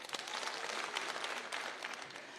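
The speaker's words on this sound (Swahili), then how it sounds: "Apigiwe makofi." Applause from the delegates at a Safina Party national delegates conference at Bomas of Kenya, Nairobi: dense, steady clapping from a large crowd filling the room, with no voices over it.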